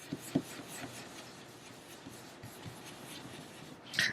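A blending brush rubs ink onto a paper card in circular strokes, a soft, quiet, continuous scrubbing with a couple of light taps and a brief louder brush at the end.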